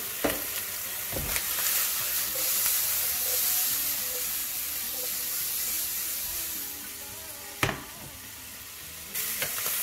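Smoked lardons fry in a pan for carbonara with a steady, loud sizzle and crackle, broken by a few sharp scrapes and stirring knocks; nobody talks.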